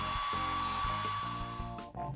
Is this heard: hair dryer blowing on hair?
yes